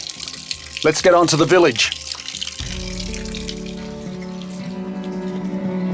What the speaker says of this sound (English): Cool mountain water. It's so fresh.